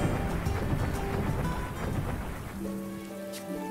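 Steady rain pours in the Ultra Kaiju Monster Farm video game, a dense continuous patter with a low rumble, and simple game music tones enter in the last second.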